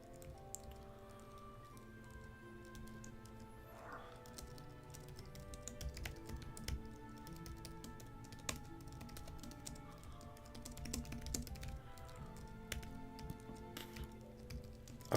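Steady, fast typing on a computer keyboard during a coding session, a continuous patter of close, crisp key clicks with irregular rhythm and occasional louder keystrokes, no voices.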